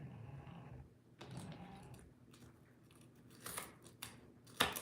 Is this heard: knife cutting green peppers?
yes